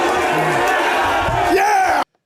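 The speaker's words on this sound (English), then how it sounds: "Listen to the crowd." Pittsburgh Steelers football fans, a large stadium crowd, chant and roar loudly and continuously, with voices swelling toward the end before the sound cuts off abruptly.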